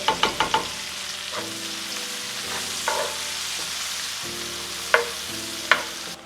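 Onion and green bell pepper fry in butter and oil in a pan over medium heat, a constant close sizzle with a quick run of utensil taps at the start and a few later scrapes of stirring.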